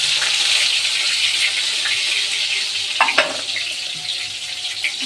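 Onion frying in hot oil with dried red chillies and whole cumin, a continuous bright sizzle close by with a few soft stirring clinks and scrapes partway through, no talking.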